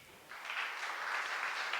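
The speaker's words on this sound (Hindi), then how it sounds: "आप एक बार जोरदार ताली बजाइए" Audience applause for a live poetry recitation by Amit Sharma, a dense wash of clapping that starts softly and swells within the first half second, then holds steady and fairly loud to the end.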